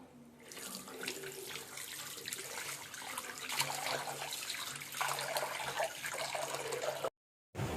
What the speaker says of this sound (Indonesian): airnya sudah ngalir